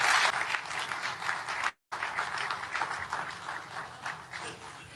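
A crowd claps after a speech on the Board of Peace charter, a dense sustained round of applause broken by a brief cut, continuing steadily at moderate loudness.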